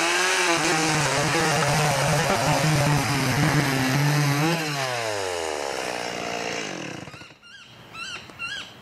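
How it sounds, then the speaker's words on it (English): A petrol chainsaw cuts through timber at a loud, steady roar, the engine pitch sagging and dropping as the bar bites deeper before the cut ends, with a few brief sputters afterward. "The petrol continues to grunt as we sort of expected."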